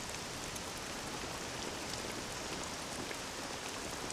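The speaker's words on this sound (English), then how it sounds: "This accursed rain will chill ye to the bone." Steady, dense rain falls in Dragon Quest VII Reimagined, an even wash of patter and hiss with no pauses or other sounds.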